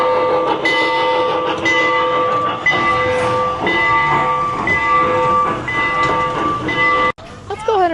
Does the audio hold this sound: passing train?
yes